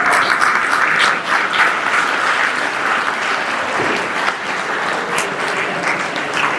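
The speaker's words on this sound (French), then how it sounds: "Je vous invite à les applaudir chaleureusement" A conference audience applauds the organising committee with loud, sustained clapping from many people. The applause stays steady throughout and dips only slightly in the middle.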